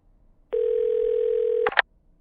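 A telephone dial tone sounds as a call is placed: one steady, loud tone holds for about a second, then cuts off into a short burst of clicky dialing blips.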